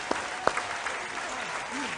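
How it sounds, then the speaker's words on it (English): An audience at a national school quiz championship claps for the contestants in a dense, continuous patter of many hands, with a few sharper claps standing out and voices talking over it. "a round of applause for them"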